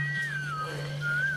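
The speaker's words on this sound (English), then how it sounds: "Michonnes' whistling here is kind of unsettling" Someone whistles The Farmer in the Dell in a TV drama scene, a thin, clear melody line that glides up and down over a steady low hum, faint and unhurried.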